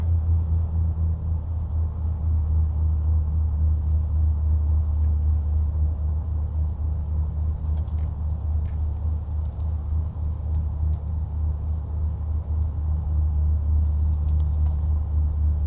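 A Piper Dakota's piston engine idles in a Microsoft Flight Simulator 2024 cockpit, a steady low rumbling drone that holds constant and fairly loud, with no talk over it.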